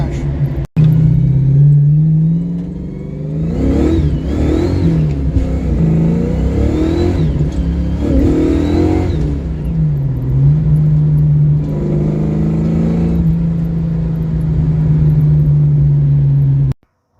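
A carburetor-fed car engine with a hesitation off idle revs repeatedly, rising and falling in pitch with several surges before settling into a loud, steady drone; a voice talks briefly over it.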